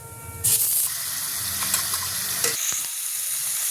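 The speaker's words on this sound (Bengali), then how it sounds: "ফোড়ন বন্ধ বেরোলে তার মধ্যে আদা রসুন বাটার পেস্টটা দিয়ে দেবো।" Ginger-garlic paste hits hot oil tempered with whole cumin, bursting into a loud, close sizzle that settles into a steady hiss, with a faint clink of a utensil near the end.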